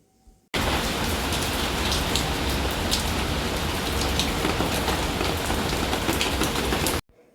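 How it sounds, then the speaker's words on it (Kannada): Raindrops patter on leaves in a dense, steady, fairly loud downpour that begins suddenly and cuts off just as sharply, with no voices. "ಚಟಪಟ ಶಬ್ದ ಬರುತ್ತಲ್ವ ಎಲೆಗಳ ಮೇಲೆ ಬೀಳುವಾಗ ಅದೊಂದು ರೀತಿ ಚೆನ್ನಾಗಿ ಅನಿಸುತ್ತೆ ಮಳೆ ಹನಿಗಳು ಬೀಳೋದು"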